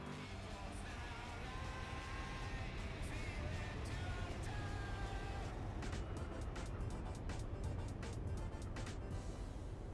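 A Shelby Cobra Daytona Coupe races in Gran Turismo 4, its engine a steady, loud drone held for the whole stretch, with sharp ticks and clicks scattered over the top.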